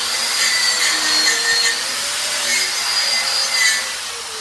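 Shielded metal arc stick welding on a 3G vertical test plate, a continuous close, loud crackling hiss with steady buzzing tones and no talking.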